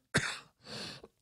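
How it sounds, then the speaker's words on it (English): A man with a lingering cough clears his throat in two rough bursts, the first sharp and loud, the second longer and raspier, ending with a short catch, all close and with no talk. "I'm still fighting this same cough"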